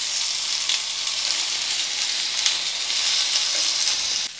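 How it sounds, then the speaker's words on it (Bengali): Eggplant slices frying one by one in a small amount of oil on a tawa over low flame, giving a steady, close sizzle throughout with no talking. "আমি একটা একটা করে খুব অল্প তেলে এরকম করে ভাজবো"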